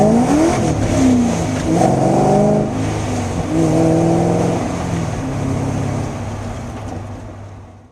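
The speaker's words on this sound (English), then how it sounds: "Might do one more quick run through the gears, give a little bit of gas" A Corvette's engine revs hard and climbs in pitch through several gears, each shift briefly dropping the tone before it rises again, loud and close from inside the car.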